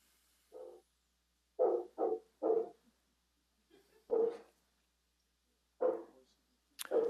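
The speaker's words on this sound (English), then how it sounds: "I hear a dog." A dog barks somewhere in the background of a public meeting, roughly six separate short barks, some in quick pairs, sounding moderately distant and clear against near silence.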